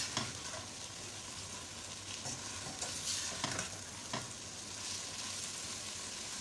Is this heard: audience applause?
no